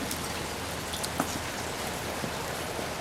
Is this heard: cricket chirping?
no